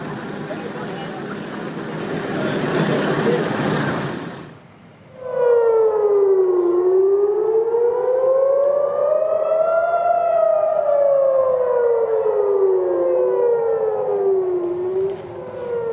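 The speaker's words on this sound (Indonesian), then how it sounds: "Sebelumnya di Yerusalem, sirene berbunyi saat rudal dicegat sistem pertahanan Israel pada Selasa dini hari waktu setempat." Air raid sirens wail in Jerusalem during a missile interception, a rising and falling civil defense tone that sounds steady and loud after a burst of broadband noise at the start.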